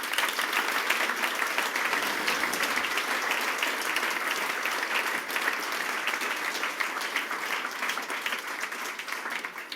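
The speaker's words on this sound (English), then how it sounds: "Round of applause, please, for Karl." Audience applause for speaker Karl Groves after his talk on JavaScript accessibility, a sustained, even roar of many hands clapping that holds steady and fades slightly at the end.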